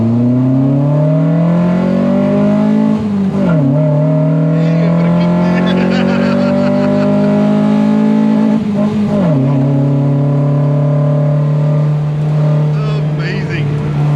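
Datsun 140Y fitted with throttle bodies, its engine loud and close, holding a steady note and twice dipping then climbing again as the throttle is blipped, with a rough buzzing edge through the revs.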